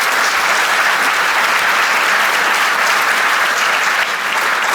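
A conference audience at a flash poster session applauds loudly and continuously, a dense, even roar of many hands clapping with no talk over it.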